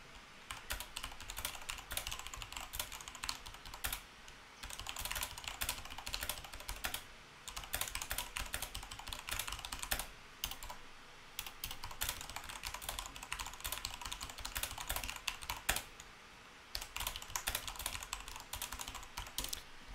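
Someone types steadily on a keyboard while writing in WordPerfect 5.1 on MS-DOS, producing dense, continuous close clicking with brief pauses between runs, with no speech.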